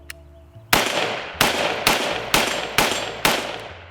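An M16A4 full-length rifle with a Magpul magazine fires six loud, sharp gunshots spaced roughly half a second apart. Each crack is close and is followed by a ringing outdoor decay. No one talks.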